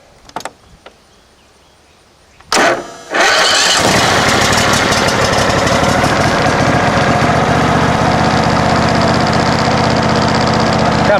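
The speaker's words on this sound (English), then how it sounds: "we'll go ahead and crank her over, see if she runs" A John Deere SST18 lawn tractor engine, set to full choke and low throttle, cranks with a few short bursts, then catches and settles into a steady, loud running drone close by.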